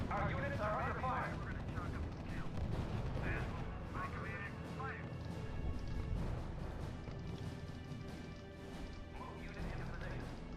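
Artillery blasts and gunfire crash and thud continuously in the strategy video game R.U.S.E., dense and steady through a battle at Cherbourg, with radio-style voices speaking over the combat.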